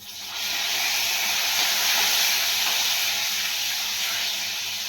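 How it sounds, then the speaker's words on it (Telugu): Green chillies dropped into hot tempering oil with mustard seeds and cumin already fried erupt in a loud, continuous sizzling hiss that holds steady and fades slightly toward the end, with no talk. "ఇందులో ఈ పచ్చిమిర్చి తాలింపులో వేసేస్తున్నాను నేను"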